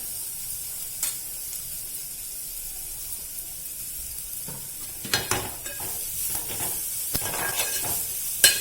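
Carrots and finely chopped cabbage sizzle in a hot pan for soup with a steady background hiss, broken by a few sharp scraping stirs toward the end; no talking.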